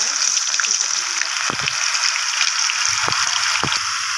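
Onion paste frying in oil with whole spices and bay leaf, a steady bright sizzle throughout with a few low knocks of a utensil against the pan.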